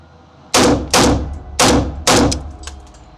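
Four sharp rifle shots from a PSA Krink in 5.45x39 fired in two quick pairs during a transition drill, each loud crack ringing out briefly before the next.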